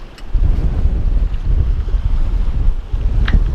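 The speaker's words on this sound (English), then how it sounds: "I'd like to get closer to that shore to get out of this wind" Wind buffeting a sailboat near a shallow lee shore, a steady low rushing roar with gusty surges and microphone rumble, close and loud, with no talk.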